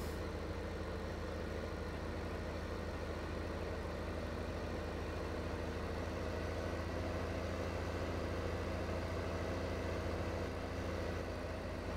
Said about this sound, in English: there's our John Deere disc ripper. Got it being pulled by a New Holland at the moment